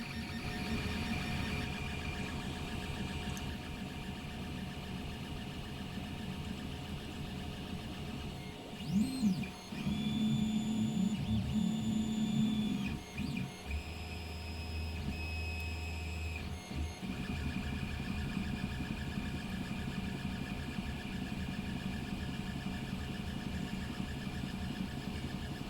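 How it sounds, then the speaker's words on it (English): A 3D printer prints a plane part, its stepper motors whirring steadily with a constant mechanical hum, while rising and falling motor tones and a brief low rumble sound partway through as the head makes small stitching movements. "What it's doing there with those small movements is just sort of stitching across the top, closing that end off"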